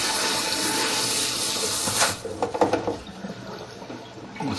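Water pours steadily with a loud hiss for about two seconds, then breaks into irregular splashes and drips that taper off.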